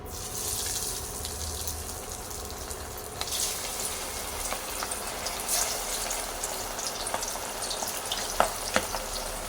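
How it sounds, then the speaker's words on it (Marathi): Steady hiss of river fish frying in hot oil, with occasional sharper crackles and pops rising over the continuous sizzle. "आता हे तेलामध्ये घालू एक एक तेल पण गरम झालं आहे"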